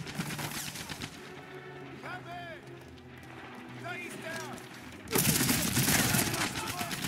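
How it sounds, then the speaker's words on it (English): Trench gun blasts in Medal of Honor Airborne, set on the Italian mainland, thudding under ongoing game noise and voices, with a sharp, loud burst of fire breaking in near the end. "This is a trench gun."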